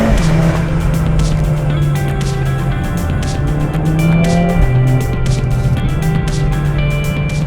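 A Mercedes-AMG A45S hot hatch is pushed hard into a corner, its engine droning loud and close at steady revs with a brief dip and shift midway, plus tire and road noise layered on top.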